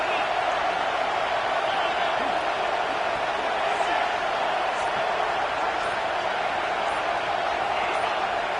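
A college football stadium crowd roars steadily on a fourth-down play, a dense, continuous wall of noise with no breaks and no separate voices standing out.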